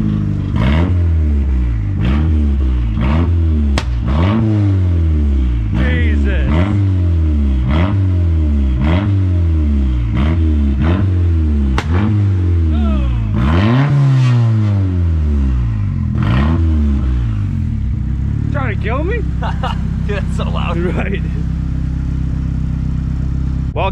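Rebuilt Mazdaspeed3 engine revving, a loud close run of regular rapid blips climbing and dropping in pitch, then one longer rev before settling into a steady idle.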